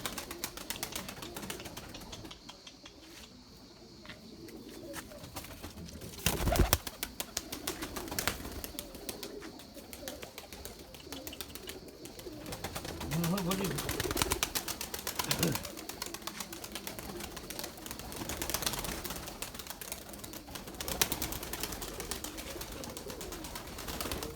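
Young purebred Erzurum white pigeons coo softly amid a busy loft, with low murmuring calls, occasional wing flutters and scattered knocks over a continuous background noise.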